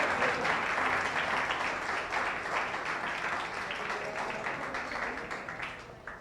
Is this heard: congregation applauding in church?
yes